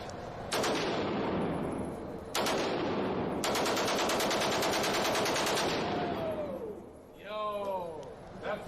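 Full-auto gunfire from a firearm comes as three close, loud sustained bursts, the last and longest running several seconds, followed by people talking.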